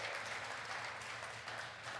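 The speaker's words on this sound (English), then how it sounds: "give her a round of applause" Audience applause at a ministry talk, a brief, steady patter of clapping at moderate distance with no voices over it.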